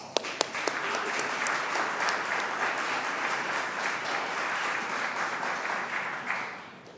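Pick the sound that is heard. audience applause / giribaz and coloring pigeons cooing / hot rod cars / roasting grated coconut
audience applause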